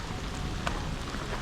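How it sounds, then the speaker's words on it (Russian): A heavy downpour falls in a forest, a continuous close wash of rain on leaves and ground, with one brief sharper drop spattering partway through. "Вот это ливень."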